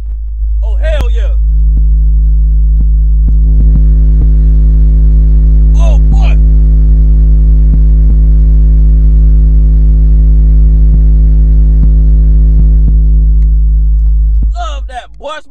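A car audio subwoofer plays a steady 52 hertz bass tone, a loud, unbroken low hum lasting the whole stretch, with short bursts of a man's speech breaking in over it.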